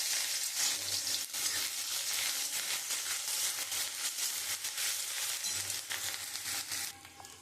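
Cumin, three cloves and ginger crackle and sizzle in hot oil for a vegetarian chana dal, a dense, loud hiss close up throughout that eases slightly near the end, with no speech.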